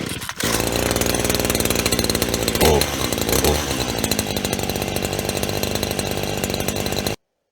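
A STIHL two-stroke engine fires up, racing once and then running at a loud, steady chainsaw-like buzz up close until it stops abruptly.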